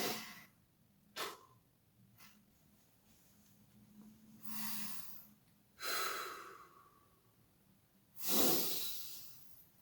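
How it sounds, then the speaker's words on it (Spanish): Slow breathing during seated meditation: a few widely spaced, soft breaths, close and airy, with quiet pauses between each inhale and exhale and no talking. "Nos concentramos en la respiración."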